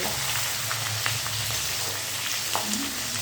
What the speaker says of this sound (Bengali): এবার এই কাঁচা লঙ্কাটাও তেলের সঙ্গে একটু ভাজতে হবে